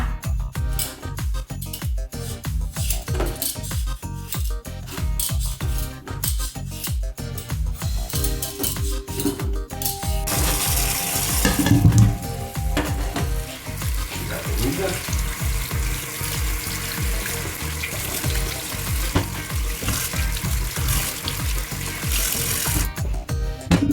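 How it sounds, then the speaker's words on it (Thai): Potatoes cut as French fries fry in hot oil in a home kitchen in Spain, a broad steady hiss rising about halfway through after a stretch of clattering and kitchen handling noises. "เอามา ทอดนะคะทำเป็นเฟรนช์ฟรายนะคะ"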